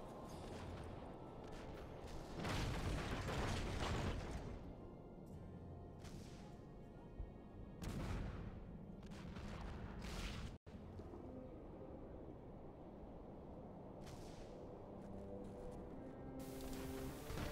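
Cannon fire in the strategy video game ParaWorld, heavy booming blasts repeating every few seconds over a continuous rumbling battle din, loud and dense with crashing impacts throughout.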